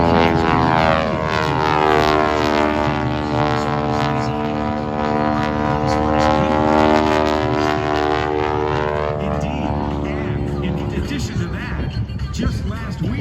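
A Stearman biplane at the Miramar Airshow 2023 roars past with a loud, sustained radial-engine and propeller drone whose pitch sweeps down as it passes, under an announcer's voice over the PA.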